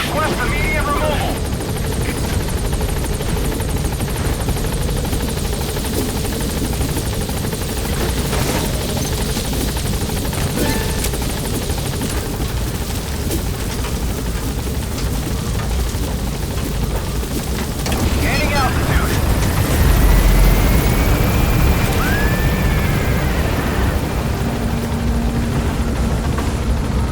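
A Pequod helicopter hovering and trying to land in Metal Gear Solid V, a loud, steady rotor roar filling the scene with a brief whoosh and a heavier rumble late on, no talking.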